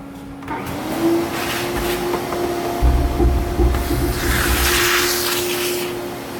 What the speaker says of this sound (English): I'm going to take the fixture and vacuum it off real quick.